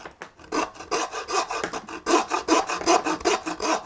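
A hand saw rasps back and forth through a small lamb bone during butchering, a close, steady series of gritty strokes with short pauses between them, with no voices.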